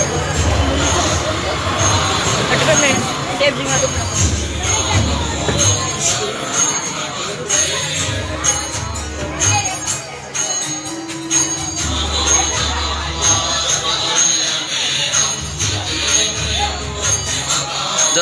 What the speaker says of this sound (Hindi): दो गाइस कितनी भीड़ हो रही इधर।